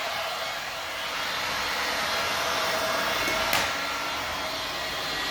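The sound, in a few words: heat gun heating glue under VCT floor tile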